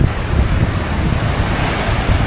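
Powerful wind buffets the microphone while waves surge on a deserted Lake Tahoe beach, making a loud, continuous roar with no voices.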